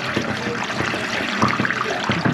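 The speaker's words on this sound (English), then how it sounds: "go upstairs and run the water" Water run from an upstairs fixture rushes steadily through a sewer pipe, a close, continuous broadband flow with no voices.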